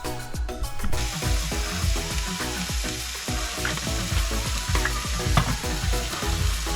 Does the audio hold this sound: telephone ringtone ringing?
no